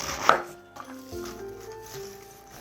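A kitchen knife cuts through cabbage with one sharp, close chop, followed by a fainter second contact and quiet board and handling noise.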